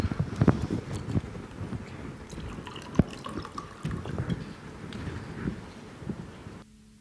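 Water is poured and trickles indoors with scattered drips and small splashes, fairly close but quiet, and one sharper drop stands out midway. No one speaks.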